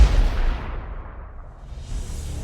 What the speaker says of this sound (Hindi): एक गोली चलने की तेज आवाज गूंज गई।